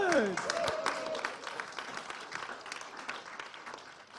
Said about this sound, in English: All that applause just for me?